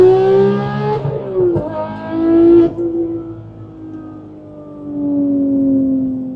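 Porsche GT3 flat-six revving hard through an acceleration pull, loud rising wails cut by quick gear changes, then the engine note falls away and settles into a steadier, softer drone.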